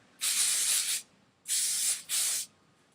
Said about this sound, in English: So just spray both sides lightly first.